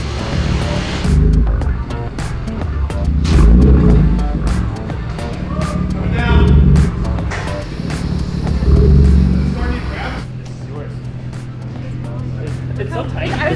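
A BMW M2 Competition with its S55 engine rumbles low and steady as it rolls slowly into a tight garage, the engine swelling in a few soft surges, with people talking over it throughout.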